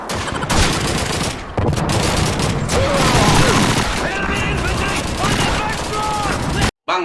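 Rapid bursts of gunfire in the video game Call of Duty 2, with repeated shots and fusillades over mechanical game sounds, loud and close, a voice talking among the firing and a short cut of silence near the end.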